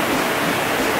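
Steady broadband rush of a river flowing at Forrest Camp, Dumaguete, a resort with tables and swimming pools; continuous and fairly loud, with no voices or breaks.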